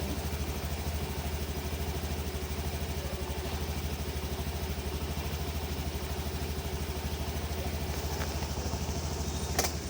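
A scooter engine drones steadily and close while riding through rain, a continuous rough mechanical hum with faint rattling and hiss, holding an even level throughout with no voices.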